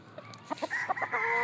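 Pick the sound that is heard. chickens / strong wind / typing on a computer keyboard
chickens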